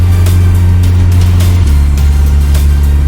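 A small car is driving, its engine a loud, close, steady drone that drops in pitch partway through as if shifting gear. Road noise runs underneath and no one speaks.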